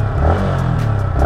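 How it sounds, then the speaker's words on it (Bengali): A Yamaha MT-15 motorcycle engine revs at close range, a loud continuous exhaust rumble with slight pulsing rise and fall, alone with no voices. "আমরা একটু এক্সস্ট নোটটা শুনি বাইকের।"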